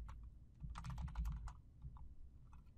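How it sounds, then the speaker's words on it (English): Quiet typing on a computer keyboard, a quick irregular burst of close key clicks that thins out into a few scattered taps, with no talking. "Simply select this button and begin typing the name of the entity"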